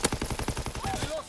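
Rapid automatic gunfire from the World War II shooter game Call of Duty WW2, a quick burst of about a dozen evenly spaced close shots, followed by fainter game sounds.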